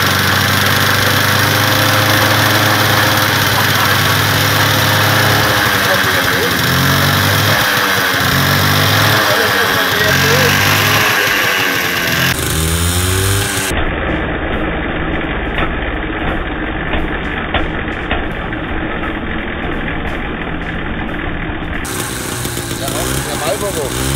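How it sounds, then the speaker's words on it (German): A moped engine runs steadily and loudly throughout, a rough, buzzing idle that fills the whole stretch, with voices talking over it. "Mofa zum Laufen gekriegt, aber nicht ohne die ganze Nachbarschaft zu ersticken"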